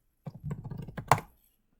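Quick run of light keystrokes on a computer keyboard at a Linux terminal, about a dozen clicks in just over a second ending in a firmer tap, close and alone, then silence.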